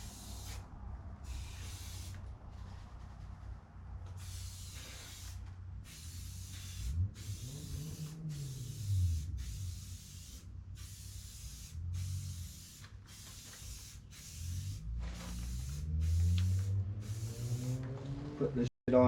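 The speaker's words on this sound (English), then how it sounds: "Now we're gonna hit her with a little SC1." SC1 protectant is sprayed onto a UTV in a rapid series of short, close hissing bursts from a trigger sprayer, separated by brief gaps, with low voice-like sounds underneath.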